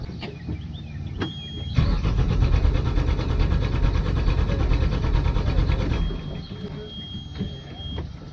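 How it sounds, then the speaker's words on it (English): An engine on a boat is bumped over with the starter, giving a loud, steady churning crank for several seconds that stops without a clear catch, after faint background noise. "We're gonna give this engine a little bump, see if she'll start"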